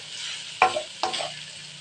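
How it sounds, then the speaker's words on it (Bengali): Boiled, shredded chicken with turmeric and chilli powder is stirred in a pan for momo filling, two distinct scraping strokes rising over a soft, constant sizzle. "দিয়ে দেবো সিদ্ধ মাংসটা, যেগুলো ছাড়িয়ে রেখেছি,"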